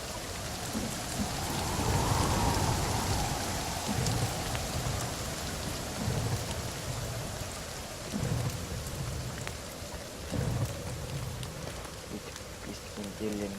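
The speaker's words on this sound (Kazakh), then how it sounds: "Жаңбыр жауып қалды." Rain falls in the survival video game The Forest: a dense, steady downpour with repeated low thunder rumbles, and a voice speaks over it.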